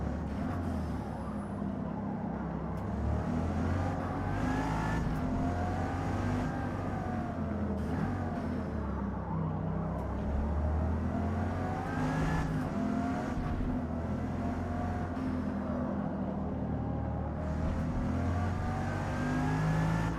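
KTM X-Bow GT2 race car engine in a racing video game, a steady loud drone with rising and falling revs as it accelerates and shifts, continuous throughout with no talk.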